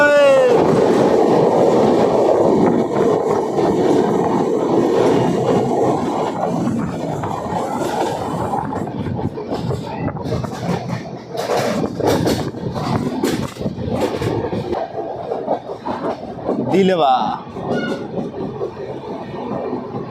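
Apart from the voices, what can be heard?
Danapur Koderma Intercity Express train running on rails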